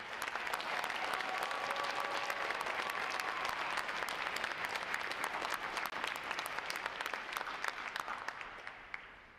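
Sustained applause from a large audience at a Navy recruit training graduation ceremony honoring the graduating divisions, a dense, even clatter of many hands that holds steady and begins to thin toward the end.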